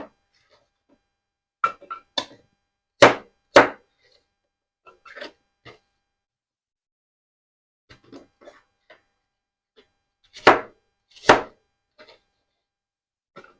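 A knife dices peeled, cored apples on a cutting board, making sharp, spaced chops in small clusters, close and fairly loud against silence.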